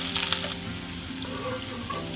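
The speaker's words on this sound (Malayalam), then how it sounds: "ഇഞ്ചി വെളുത്തുള്ളി എണ്ണ വെച്ചത് ആഡ്." Ginger and garlic sizzle in hot oil for a Kerala-style avoli fish curry, a steady close crackling hiss with a sharper burst of spatter at the start.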